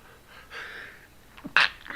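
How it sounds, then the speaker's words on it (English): A single sharp sneeze bursts out near the end, preceded by a quick intake of breath, close and fairly loud against quiet room tone. "Excuse me, sorry to sneeze in your ears."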